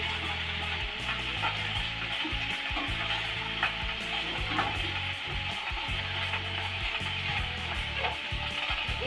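Thin slices of taro frying in a wok alongside already-fried onion and chilli give off a steady, continuous sizzle that holds at an even level throughout, with no voices.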